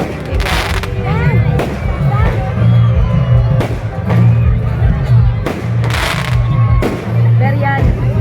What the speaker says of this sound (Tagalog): fireworks pa po.